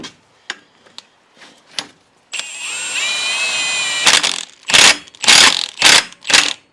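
Impact wrench hammering on a puller to free a part on a Polaris Sportsman 800 ATV: a few faint clicks, then a sustained whirring run followed by four or five loud, short rattling bursts close up.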